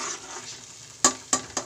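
Dal and spinach saag sizzles softly in a pan with tomato and red chili, then a spoon scrapes and stirs three quick times near the end.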